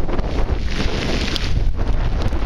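Hurricane Isaac's winds of about 60 to 65 miles an hour roar straight into the microphone as a loud, steady, buffeting rumble, with no voices over it.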